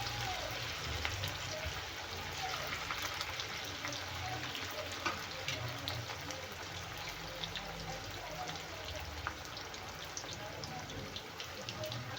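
Chicken 65 fries in hot oil until golden, giving a continuous dense sizzle and crackle at close range with small pops throughout, steady in level over the whole stretch.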